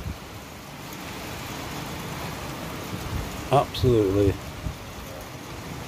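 Torrential rain pours on a farm as a constant dense hiss filling the whole scene, with a person speaking briefly over the downpour.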